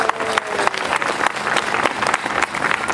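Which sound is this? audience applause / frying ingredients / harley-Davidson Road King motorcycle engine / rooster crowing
audience applause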